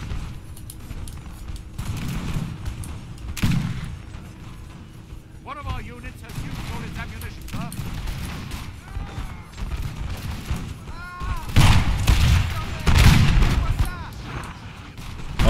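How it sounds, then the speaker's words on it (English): Napoleonic cannons and musketry fire in a Total War battle at Ulm, with booming shots and crackling gunfire spread through a noisy battlefield din and a loud cluster of blasts near the end, while a person talks throughout. "Oh, those cannons are flying by."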